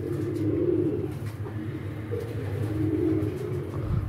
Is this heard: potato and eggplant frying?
no